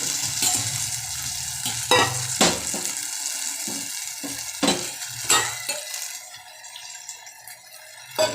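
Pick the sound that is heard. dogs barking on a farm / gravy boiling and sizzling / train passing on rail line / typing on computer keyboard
gravy boiling and sizzling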